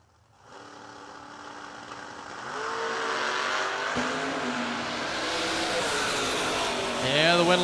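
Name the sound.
drag race run, Nova and Corvette Roadster race cars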